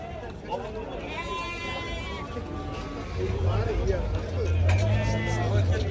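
Sheep bleat in bursts amid a busy livestock bazaar in Shayman, Jomboy district, Samarkand region, with steady crowd hubbub and people talking close by throughout.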